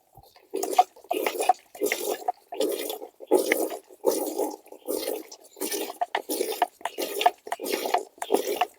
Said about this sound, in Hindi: इस 240 को भी इस टंकी में हम मिला लेते हैं।